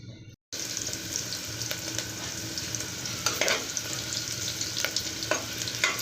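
Thinly sliced onions fry in a pan for mutton curry, giving a steady close sizzle with a few scraping stirs and no talk.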